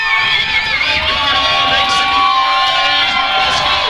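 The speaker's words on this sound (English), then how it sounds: "Crowd getting excited for the third round here" Loud crowd cheering and shouting fills an amateur MMA cage fight arena before the third and final round, steady and excited throughout with whoops rising above the din.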